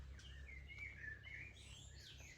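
Soft, distant birds chirp and twitter in short warbling phrases over a low steady hum of background noise.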